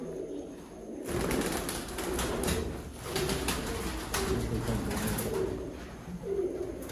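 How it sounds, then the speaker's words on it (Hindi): Several Sialkoti pigeons coo in low, throaty, repeated phrases close by over a steady rustling background, with no voices. "रिजल्टेड सियालकोटी कबूतर जेडे बिल्कुल नायाब हालत दे विच ने"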